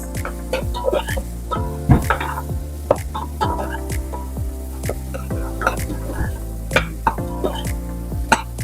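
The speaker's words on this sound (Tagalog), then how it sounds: "Antayin lang natin na maluto yung sibuyas." Onions stirred into a pan with browned garlic, sautéing for chicken sisig with a steady sizzle and repeated scraping and clinking strokes of a utensil against the pan, close and fairly loud, with no talking.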